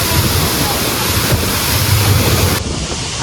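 A heavy, powerful waterfall at Bhandardara roars in a loud, continuous wash of broadband rushing noise, close by and mixed with wind buffeting the microphone.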